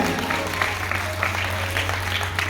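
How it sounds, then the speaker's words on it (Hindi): Audience clapping at an annual religious festival gathering at a dham, a steady wash of applause over a constant low hum, moderately loud throughout. "बजाओ ताली आप सबके लिए"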